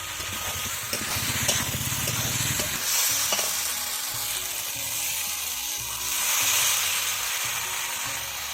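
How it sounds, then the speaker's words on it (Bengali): Potatoes fry with spices in a pan, giving a steady close sizzle broken by scraping stirs, with a louder spell of stirring near the start and no talking. "এবার আমি মশলার সঙ্গে আলুগুলো ভালো করে ভেজে নেব।"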